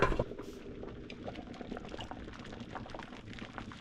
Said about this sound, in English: this is the soup in here with the potatoes and so on that is now starting to boil up